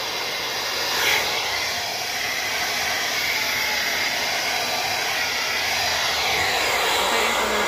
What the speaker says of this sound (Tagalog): So, isang kamay lang ang nag-blower.